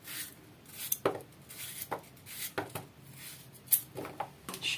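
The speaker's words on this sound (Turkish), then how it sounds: "Patatesleri de ufak ufak doğruyoruz" A knife chops potatoes into small pieces on a cutting board, producing a string of crisp, irregular taps close to the mic, fairly quiet, with no talking.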